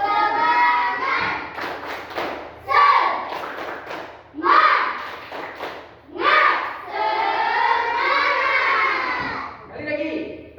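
A group of children chant "tepuk semangat" loudly in rhythm in Indonesian, with claps and thumps punctuating the phrases, their voices filling the space in repeated bursts.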